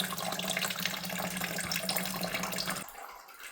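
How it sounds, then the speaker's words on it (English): Water drains from a toilet during a tank-parts replacement, a steady close rushing flow that cuts off sharply near the end. "that's draining the toilet bowl right now"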